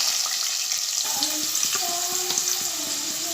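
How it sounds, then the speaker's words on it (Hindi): Onions fry in hot oil in a pan along with mustard seeds, cumin and curry leaves over full heat, giving a close, steady sizzle with stirring clatter and light scraping, with no talking. "प्याज हम नरम होने तक ही तलेंगे, ज़्यादा नहीं।"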